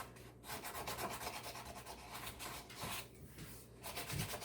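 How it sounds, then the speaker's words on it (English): Hand sanding along the edges of a wooden dog bone sign makes continuous rhythmic rasping strokes, close and moderately quiet, with no speech. "And just give them a really light sanding."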